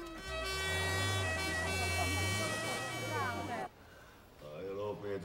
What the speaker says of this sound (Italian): metti la sirena te, forza